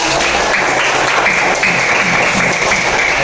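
A classroom of students applauds a classmate, a loud, dense, even burst of clapping that holds steady throughout.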